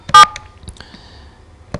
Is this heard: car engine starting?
no